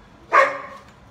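A single sharp bark from a dog reacting to a guest arriving at the door, loud and close, fading quickly against a quiet indoor background.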